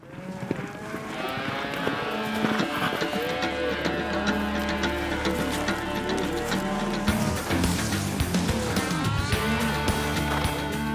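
A herd of cattle on an Alabama ranch, with a rider on horseback moving among them, gives low moos over a constant dense rumble of animals and hooves.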